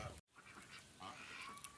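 Farm ducks honk and quack in a winter farmyard, soft, fairly distant calls scattered over a quiet background, with a brief dropout near the start.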